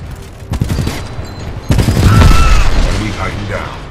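Titanfall gunfire: bursts of shots crackle with mechanical clatter, growing denser and louder midway, while faint voices and game noise run underneath.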